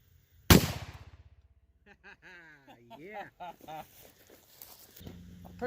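A single loud gunshot from a Rossi 92 .44 Magnum carbine firing hot 180-grain PNC hollow points rings out sharply near the start, followed by someone talking.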